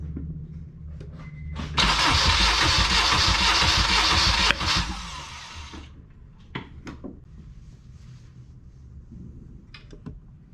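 A Honda DC5 engine cranks over on the starter for a compression test, a loud, steady whirring churn lasting a few seconds. It then stops, leaving scattered clicks and clanks from nearby tools.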